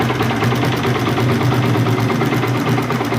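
A Yamaha motorcycle engine fitted with a BRT T2 racing camshaft idles steadily with its exhaust covered, a smooth, even mechanical ticking and hum close by.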